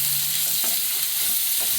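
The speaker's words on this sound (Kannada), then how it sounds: "ಇದು ಚೆನ್ನಾಗಿ ಈರುಳ್ಳಿ ಫ್ರೈ ಆಗಲಿ" Onions frying in a pan for tomato gojju, a loud, dense, continuous sizzle with occasional stirring scrapes, close up and with no one speaking.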